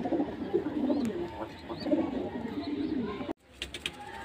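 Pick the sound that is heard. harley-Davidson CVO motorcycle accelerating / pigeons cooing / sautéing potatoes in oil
pigeons cooing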